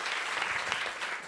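Audience applause for Jonathan Capehart at a panel event, a dense burst of many hands clapping, steady and fairly close, fading slightly at the end.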